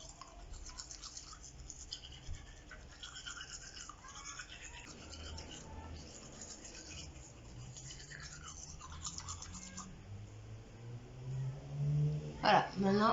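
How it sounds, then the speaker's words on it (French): Teeth brushed with a toothbrush and homemade whitening paste, close wet scrubbing strokes in an irregular rhythm, muffled and mixed with voice sounds, louder toward the end. "vous allez venir frotter comme avec un dentifrice classique"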